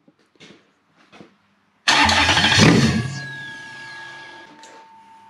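A naturally aspirated manual Toyota engine cranks and fires up loudly after a couple of faint clicks, then settles into a steady idle that gradually eases down, heard close with no talk.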